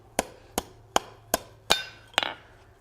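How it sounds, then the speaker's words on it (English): Hot metal being hammered over the far edge of an anvil while bending a bar back on itself in a blacksmith forge: six sharp, ringing blows at a steady rhythm, close and loud, the last one doubled, with a low hum underneath. "we're going to heat this up and bend it over the far edge of the anvil and back onto itself"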